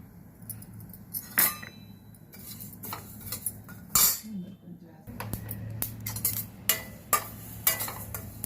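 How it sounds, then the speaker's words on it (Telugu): Sesame seeds dry-roasted in a heated kadai for an Andhra-style cabbage chutney, with repeated metallic clinks and scrapes of a spoon stirring against the pan, sharp and close, and a voice speaking between them. "ఈ కడాయి కొంచెం వేడెక్కితే నువ్వులు వేయించుతాను ముందు."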